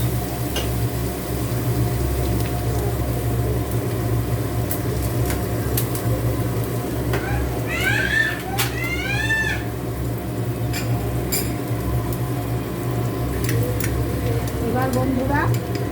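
Chili paste fries in hot oil with a dense, continuous sizzle, close and loud; a cat meows a few times in the middle of the frying.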